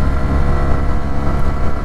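Learner motorcycle engine accelerating, a loud, steady low rumble heavily mixed with wind buffeting on the microphone, continuous throughout.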